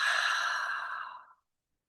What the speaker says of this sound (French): On inspire. On expire. Inspire encore. Expire.